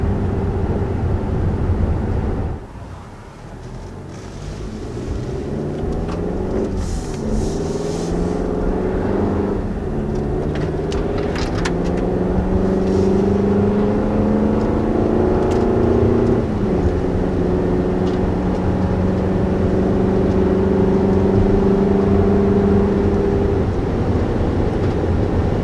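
A 2020 Toyota RAV4 TRD Off-Road with its base engine accelerating, the engine note rising steadily in pitch through the gears under a constant hum of road and wind noise, heard from inside the cabin with no talking.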